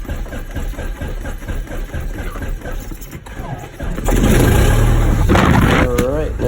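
A light training aircraft's piston engine catches after start-up and settles into a loud, steady idle under a rough, rumbling roar. People talk over the engine noise before it builds.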